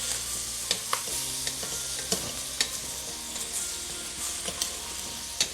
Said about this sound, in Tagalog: So let's just mix it all here para maglasa yung ating mga karne.